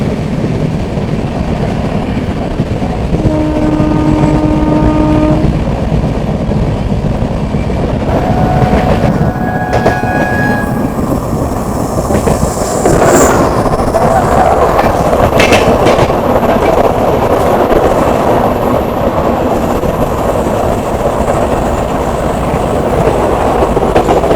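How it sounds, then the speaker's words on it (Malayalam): The Eranad Express to Mangalore rolls past on a single line at a station, a loud sustained rumble with rhythmic clickety-clack of wheels over rail joints and brief squealing tones. "അപ്പോൾ അതായിരുന്നു മംഗലാപുരത്തേക്കുള്ള ഏറനാട് എക്സ്പ്രസ്"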